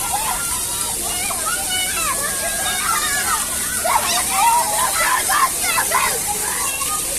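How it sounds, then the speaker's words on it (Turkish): At a water park, a big bucket fills and tips, water splashing and sloshing steadily with a louder rush partway through, while children's voices and excited chatter carry over the spray nearby. "Bakın bu doluyor. Bir süre sonra döküyor."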